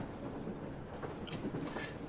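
A passenger train running on the Trans-Siberian route in the video game Trans-Siberian Legends, a faint steady rolling rumble with soft clickety-clack wheel rhythm, alone without talking.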